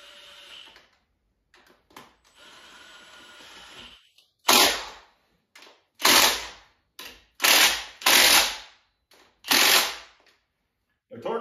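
Ratchet wrench tightening bolts during final assembly of a 428 Cobra Jet engine, heard as several loud, short bursts of clicking ratcheting separated by pauses, following quieter handling noise at the start.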